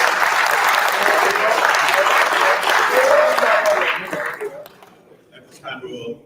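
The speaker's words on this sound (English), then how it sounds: "let's give a round of applause for all our contestants" Audience applause for award contestants at a live student of the year ceremony, a dense sustained round of clapping that fades out over the last couple of seconds as a voice begins talking.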